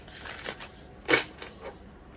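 A deck of Madame Endora's fortune cards being shuffled by hand, a few quiet riffling bursts with one louder flurry in the middle, close and soft with no talking.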